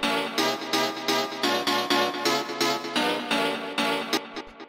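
A techno chord stab pattern pulses in short, bright, rhythmic hits about eight times per second, loud and upfront, ending with a few fading stabs and no voices.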